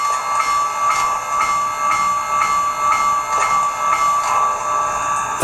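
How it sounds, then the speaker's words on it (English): The bell sound of an Athearn Genesis HO Big Boy model steam locomotive: a steady ringing bell, struck in regular repeated strokes over a constant hiss, close and fairly loud. "Function 1 is the bell."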